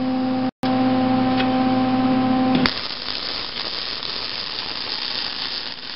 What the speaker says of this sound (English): We'll tack weld it, and then we'll weld all the way around one of these spider gears.